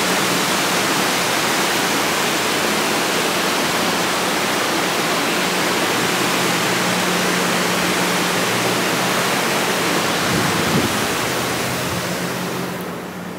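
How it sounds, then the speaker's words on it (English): Rushing creek water pours in a dense, steady roar, close and loud, heard from a lodge balcony in Gatlinburg, Tennessee, with no talk over it and a slight fade at the very end. "The sound is pretty, hits you all at once, like rushing water."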